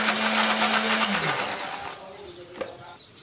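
Shallots, garlic, bird's-eye and large chilies, turmeric and candlenuts whir in an electric blender, a loud steady motor drone that winds down and fades out partway through.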